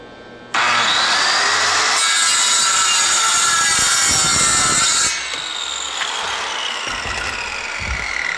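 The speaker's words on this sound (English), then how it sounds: "You don't want to be touching the wood when you start the saw, and then you can let that swing down." Circular saw starts up and cuts through wood along a straight edge guide, a loud, harsh whine and rasp that holds for several seconds, then eases into a lower rough grind as the blade finishes, no talking.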